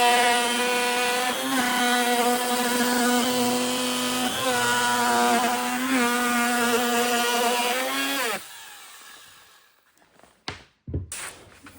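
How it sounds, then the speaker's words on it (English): A router cuts a juice groove into a rosewood cutting board, a loud sustained high whine with steady harmonic tones and slight wavering as it travels, cutting off abruptly before a few quiet knocks and handling noises. "I'm going to drop it another 1/16 of an inch and run it around a second time."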